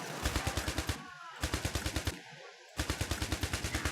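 Rapid automatic gunfire from a lone defensive turret mowing down enemy soldiers in the shooter IS Defense, loud bursts of regular rhythmic shots broken by two short pauses.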